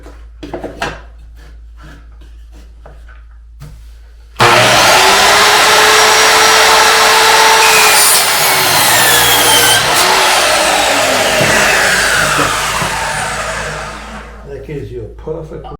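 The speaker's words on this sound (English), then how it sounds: "Use a chop saw and some blocks of wood to give you the perfect cut every time." A chop saw spins up loudly and bites through metal tile trim braced between blocks of wood, a harsh sustained whining grind lasting about ten seconds before winding down.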